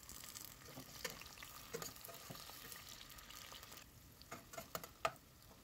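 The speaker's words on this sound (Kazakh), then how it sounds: "Май құйып, үстіне кішкене болгар бұрышын қуырамыз." Bell pepper fries in oil in a pan, a continuous soft sizzle with scattered pops and light stirring clicks that grow more frequent toward the end, quiet and close with no talking.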